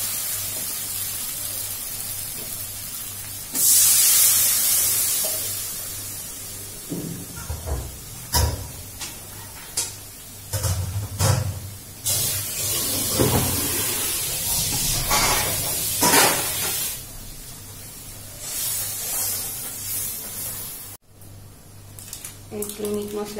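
Water and dried fish go into hot fried spice masala in a pan. A sudden loud hissing sizzle bursts out, then settles into uneven bubbling with clattering knocks, and a voice talks at times.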